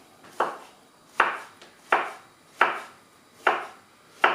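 Knife chopping through a peeled vegetable on a cutting board while making a low-fat vegetable burger, six crisp, evenly spaced cuts with soft thuds, close and clear in a quiet kitchen.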